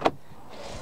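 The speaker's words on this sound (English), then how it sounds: "there's your electric windows at the front." An electric front window on a 2004 Vauxhall Vectra SXI 2-litre turbo gives a short click, then a faint motor whir begins and rises, all within a second with no talking.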